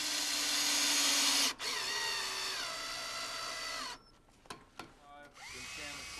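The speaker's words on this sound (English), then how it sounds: "Drill pilot holes and screw the snap pocket to the center post." A power drill whirs loudly in sustained bursts while boring pilot holes for a stair railing post, its pitch rising and falling with short pauses and brief stops near the end.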